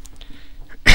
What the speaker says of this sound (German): Ach, muss ich selber gerade husten?